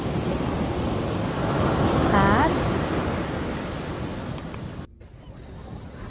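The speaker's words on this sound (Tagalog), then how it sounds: "nakikita ko na ang dagat ng Atlantic Ocean" Steady roar of Atlantic Ocean waves breaking on a beach in Albufeira, Portugal, with wind buffeting the microphone and a brief bird-like call, close and continuous, under a person speaking briefly.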